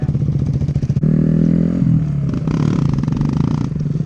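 A motorcycle engine sputters at idle, then roars loudly and holds a strained high rev as the rider lifts into a wheelie, settling back to a lower drone near the end.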